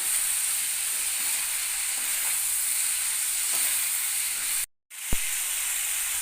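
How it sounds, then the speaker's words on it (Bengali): Potato and cauliflower pieces with salt and turmeric fry in a pan, giving a steady, close hissing sizzle that cuts out briefly near the end, followed by a sharp click. "এবার খুব ভালো করে ভাজতে হবে"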